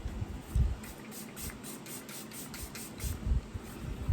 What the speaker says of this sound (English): I'm going to use the One Size Powder Melt Setting Spray